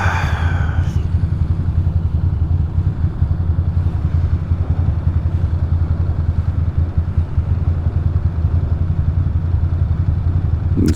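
A Ducati Monster 620 motorcycle engine runs steadily and loudly up close for the whole stretch, a deep continuous rumble mixed with traffic clatter and no talking.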